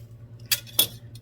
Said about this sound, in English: Let's see, we're gonna have to give it a stir.